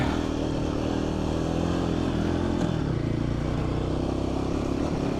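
An adventure motorcycle rides a dry, rocky off-road trail, its engine a steady close drone with faint clatter from the rough ground, continuous and without talk.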